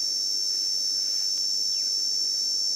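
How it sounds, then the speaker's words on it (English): A cicada shrills steadily and loudly from about a meter away at sunset on a safari, a continuous high buzzing drone with no pauses. "noise made by a cicada or cicada."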